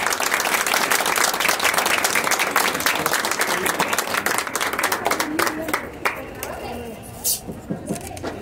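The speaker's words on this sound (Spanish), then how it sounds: "Un aplauso, por favor" Applause at a family day during patron saint festivities in Nextipac, dense clapping that thins into scattered, individual claps toward the end, with talk rising underneath.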